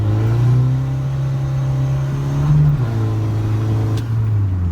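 A remapped Chevrolet car accelerates on the road, its engine note loud and close, climbing steadily, dipping briefly at a gear change, then pulling again.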